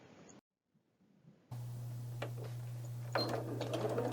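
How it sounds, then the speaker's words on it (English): A sewing machine runs steadily as it top stitches along the upper edge of a fabric double hem, a close, even mechanical hum with light clicks, starting after a short quiet pause. "top stitch along the upper edge of the inside double hem"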